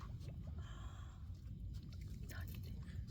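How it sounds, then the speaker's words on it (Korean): Close, steady wet chewing and crunching of a cat eating a raw fish head, with soft crackles repeating throughout under low background noise. "머리부터 씹어 먹네. 아그작 소리가 나 계속."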